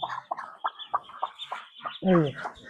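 A hen, recently hatched two chicks and just taken down from a high perch, gives a run of short clucks close by, with a louder, longer call near the end.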